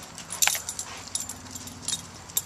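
A beagle wearing a cone collar whimpers and yips in short, soft, high bursts outdoors, a string of brief whines with faint jangling, close by and with no talking.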